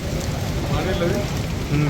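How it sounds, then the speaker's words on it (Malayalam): Rain falls with a dense, steady, loud hiss and patter, with a voice faintly beneath it. "മഴയുണ്ട് നല്ല മഴയും പെയ്യുണ്ട്"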